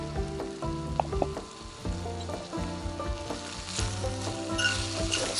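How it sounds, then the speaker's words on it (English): Broadleaf plantain flowering shoots pan-fry in bubbling fat, a soft, crackling sizzle with scattered pops and occasional clinks from a utensil, near and unaccompanied by voices. "once that starts to bubble a little bit, add the plantain in"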